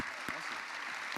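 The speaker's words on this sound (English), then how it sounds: "Round of applause, please, for Jens." An audience at a live game-event broadcast applauds in a brief, fairly faint burst of steady clapping lasting about a second.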